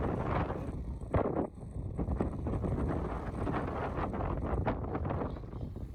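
Strong, constant wind buffeting the microphone in a dense roar on Ibiza, with gusts rising and falling and no voices.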